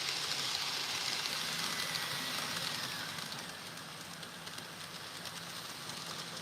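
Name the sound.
modern train running next to Kyoto Railway Museum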